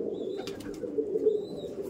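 Green Madras pigeons coo in a low, steady murmur that runs throughout, with a few faint higher chirps above it and no talking.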